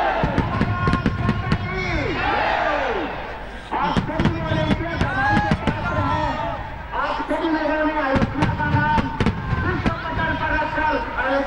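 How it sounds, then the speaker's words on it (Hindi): Colorful Diwali fireworks over Ayodhya at a record-setting celebration, with repeated sharp bangs, crackles and whistling rockets going off continuously while a reporter talks throughout and a crowd cheers. "यहाँ आपको आसमान में रंगीन आतिशबाजी इस समय नजर आ रही"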